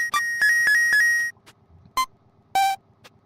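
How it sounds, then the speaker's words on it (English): A video-game bell rings to expose ghosts, heard as a series of bright, tonal electronic dings, first four quick strikes and then a few sparser ones with pauses, loud and alone. "These are just normal ghosts, so you just have to ring one bell."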